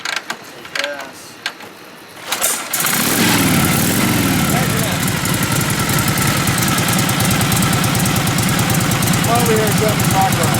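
A restored 1937 Harley-Davidson EL OHV Knucklehead fires up after a few quiet seconds of talk and handling, then settles into a loud, steady, lumpy idle with mechanical clatter that runs to the end.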